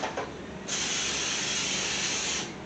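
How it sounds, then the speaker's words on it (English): Butter-flavored cooking spray hisses from a can onto a pan in one steady, close burst lasting about two seconds, with a short soft puff just before it. "just this butter flavored cooking spray"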